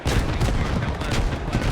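Small arms fire crackles nonstop in a Squad battle, dense overlapping shots and bursts layered over low rumbling booms, loud and continuous with no talking.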